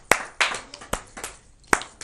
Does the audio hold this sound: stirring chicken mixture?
no